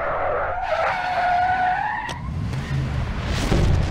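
Tires squeal in a long skid as the Batmobile races through Mortal Kombat vs DC Universe, a loud sliding screech over a low engine rumble, with a sharp impact near the middle and no voices.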